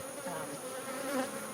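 Honey bees buzzing steadily around an open hive, a close, continuous droning hum with no voices.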